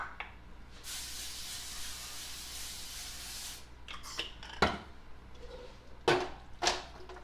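A close, continuous hiss of cooking spray lasts about three seconds, followed by a few light knocks and clatters of kitchenware.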